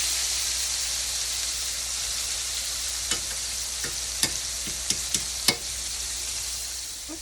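Country style steak browns in a hot pan with a steady, bright sizzle, punctuated by a few sharp clicks and scrapes of a utensil against the pan.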